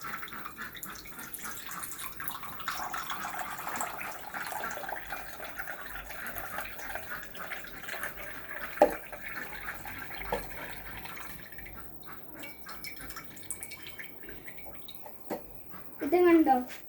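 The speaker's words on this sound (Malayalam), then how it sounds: "ഇനി പുല്ലുള്ളതിനകത്തോട്ട് വെള്ളം ഒഴിക്കാൻ പോകുകയാണ്" Water poured into a glass of grass makes a steady, close trickle lasting several seconds, with a brief clink partway through and a louder splash near the end.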